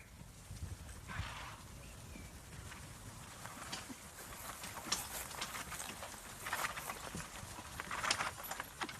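Lipizzaner horses at their historic stud farm in Slovenia, heard as a steady mix of hoof clip-clops and shuffling over a constant outdoor wash, with a faint whinny-like call and scattered louder steps, fairly close.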